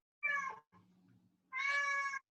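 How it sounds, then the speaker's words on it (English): A cat gives two loud, drawn-out meows close to the microphone, separated by a quieter low sound in a near-silent room. "That's my cat."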